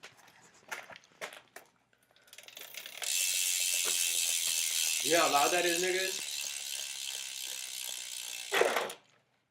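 A BMX bike's G Sport ratchet rear hub gives a loud, fast, continuous buzzing click as the wheel spins freely for several seconds, close up, with someone talking briefly before and over it.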